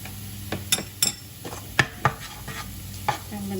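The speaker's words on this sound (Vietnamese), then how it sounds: "Mình đảo nó lên và mình cho thịt bằm vào." Garlic and a half teaspoon of chili powder being stirred in hot oil in a pan, with a soft sizzle underneath and several sharp utensil clicks and scrapes against the pan, close and clear.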